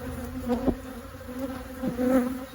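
Angry honeybees swarm around an open single brood chamber during a hive inspection, making a continuous close buzzing drone with a few louder passes as bees fly near.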